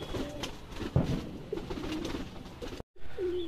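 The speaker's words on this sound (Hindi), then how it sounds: "अब सारे कबूतर बाहर आने के लिए रेडी हैं।" Pigeons coo softly nearby inside a loft in low, throaty bursts, with a brief rustle and a short gap before another coo.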